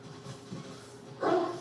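A hunting dog in the video game Call of the Wild lets out one short, mid-pitched bark near the end, over a low game background hum.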